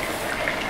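NaCl poured into a Tris-buffered saline solution gives a brief, close, continuous watery rushing sound with no voices.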